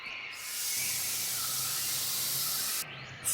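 Steady, loud hiss of a snake sounding from an animated children's animal lesson, a continuous broad airy rush lasting about two and a half seconds alone, starting and ending abruptly.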